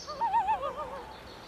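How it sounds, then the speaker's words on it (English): Birds in a Minnesota woodland give a few warbling, looping calls close by, rising and falling over about a second before fading into quiet forest ambience. "these woods fill with hungry birds, foraging, among other things, for caterpillars"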